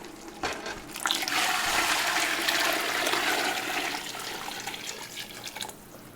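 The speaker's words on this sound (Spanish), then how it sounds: "Ahora le vamos a agregar el caldo primero." Broth pours into a pot of red pork pozole as a steady, splashing stream of liquid that swells, holds for several seconds and then tapers off, close and alone.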